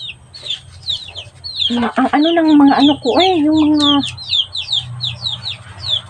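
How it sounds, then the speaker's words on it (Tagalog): Small chickens clucking and chirping noisily close by, with a run of loud squawks in the middle over steady background chatter; a voice speaks briefly. "yung manok, yung mga maliliit na mga manok ba, sobrang ingay nila mga inday."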